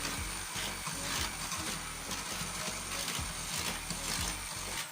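An electric hand mixer runs on its lowest speed, giving off a steady, close mechanical whirr with a faint rhythmic rattle throughout.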